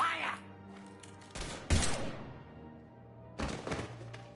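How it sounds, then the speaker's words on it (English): Bursts of gunfire in Mass Effect: Legendary Edition, a few sharp shots and thumps in separate clusters, with voices speaking underneath. "Now open fire!"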